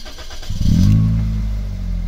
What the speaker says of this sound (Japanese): さあ、エンジンちょっとかけてみましょう。